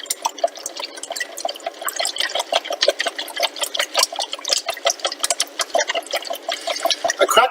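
Cracked eggs are whisked into buttermilk in a bowl, giving a quick, irregular run of wet clicks and sloshing taps from the whisk striking the sides, close and fairly loud with no voice over it.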